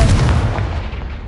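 Confringo fire spell blast in Hogwarts Legacy, a single loud booming burst that rumbles and fades over about a second.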